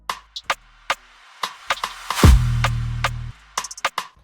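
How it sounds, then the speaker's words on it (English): A reverb-soaked clap sample in an afrobeat beat with guitar sounds first reversed, swelling upward, then plays the right way round, set among crisp percussive hits and a deep sustained bass tone. "we got the usual reverb clap, reverse it, and then the regular."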